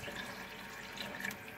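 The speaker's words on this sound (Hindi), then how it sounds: "मैं इसमें तकरीबन 1 ग्लास पानी शामिल करूँगी" About a glass of water pours into a pot of mutton yakhni for pulao, a soft steady splashing trickle, close and quiet, with no one talking.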